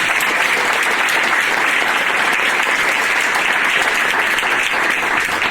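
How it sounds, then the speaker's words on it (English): An audience at an employer recognition event in Santa Cruz breaks into loud, sustained applause, a dense, even wash of clapping that fills the room from start to finish. "Can I get an applause for those that make inclusive environment?"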